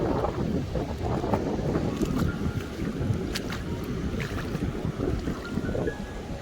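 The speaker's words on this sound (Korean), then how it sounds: "바람이 많이 불고 있어요." Strong typhoon wind blasts across a microphone outdoors on Jeju Island, a loud, continuous roaring buffet with surf-like rushing throughout.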